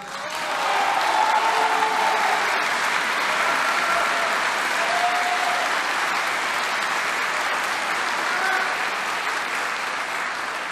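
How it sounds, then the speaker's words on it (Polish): Loud, sustained applause from members of congress and a gathered audience, a dense roar of clapping that continues steadily for the whole span. "Za to zdanie zebrał głośne i długie brawa od członków kongresu oraz od zgromadzonej publiczności."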